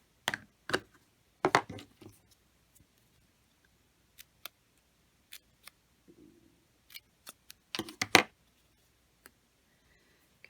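Scissors snip a paper strip to make a banner-cut end: a few crisp, close cuts in small clusters, with sparse quiet clicks and long near-silent gaps between them.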